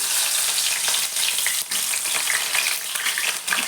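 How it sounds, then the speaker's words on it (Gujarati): Green chilies fry in hot oil with a steady, close crackling sizzle, plus a few soft stirring scrapes, and no talk. "મેં થોડા લીલા મરચાં લીધા છે, એને પણ થોડા ફ્રાય કરી લઈશું."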